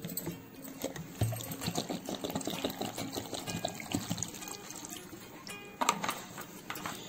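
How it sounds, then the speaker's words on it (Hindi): Water is poured over chopped guava pieces in a pot while making guava jelly, a steady close splashing fill that runs for several seconds, with a brief louder burst near the end. "अब मैं इसमें इतना पानी डालूंगी कि ये अमरूद अच्छे से डिप हो जाए, पूरे भीग जाए"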